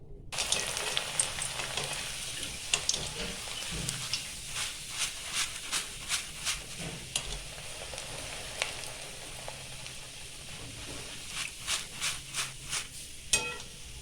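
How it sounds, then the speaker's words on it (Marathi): Corn chivda frying in hot oil for a Diwali snack: a steady bubbling sizzle with crackly hiss runs throughout, broken by repeated short scraping strokes of a slotted spoon against the pan. "आपण आता अगोदर मका चिवडा तळून घेणार आहे"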